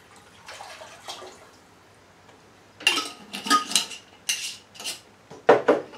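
Moonshine poured into a metal pot, followed by a few clinking and splashing knocks of stirring in a kitchen, quiet at first and then a cluster of sharper, brighter clatters.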